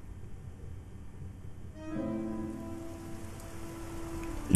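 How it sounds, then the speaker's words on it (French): Steady game rain pours over the city of Casablanca in the video game Rain, a dense hiss that thickens about halfway through as tonal layers of the score swell in beneath it. "Il pleut sans cesse sur la ville."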